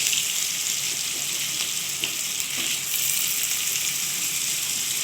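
Potatoes fry in a hot pan for a Bengali bottle gourd curry with bori, giving a loud, steady sizzle with faint crackles and the odd stir. There is no talk.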